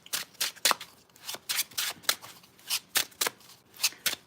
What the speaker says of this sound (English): I just got to shuffle these up pretty good because they're fairly new.